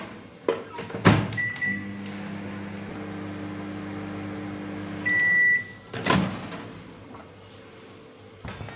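A microwave oven hums steadily on high mode while heating fried rice, with a door clunk near the start and another later, plus a brief beep in between.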